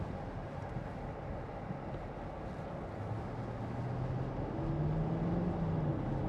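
A 2014 Porsche Cayenne 4.2 TD S diesel with Tiptronic S and 4WD on the road, its engine a steady low drone from inside the cabin that swells slightly louder with rising tonal whine toward the end.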